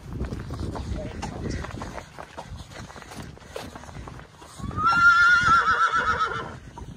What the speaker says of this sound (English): As if on cue, that's Obi letting the girls know he's arrived.